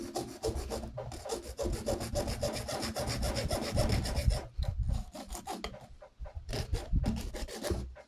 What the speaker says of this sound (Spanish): Entonces voy a cortar aquí con una hoja de cegueta.